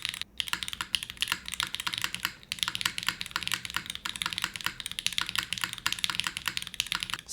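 Fast, continuous typing on a mechanical keyboard with lubed Gateron switches, an aluminum plate and lubed stabilizers, giving a dense, crisp clatter of key presses with a brief pause, heard up close and without talk.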